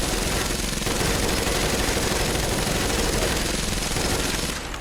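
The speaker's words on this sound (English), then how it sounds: "MG42 is not a very sneaky weapon," An MG42 machine gun in Fallout 4 fires one long, unbroken burst, extremely rapid and harsh, loud and close, cutting off at the end.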